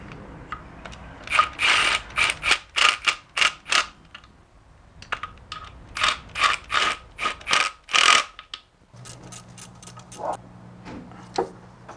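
Bolts on a 2001 Nissan Altima engine are tightened with a ratchet during a timing chain and oil pump job, with bursts of quick close clicking, short pauses between runs, and no talk.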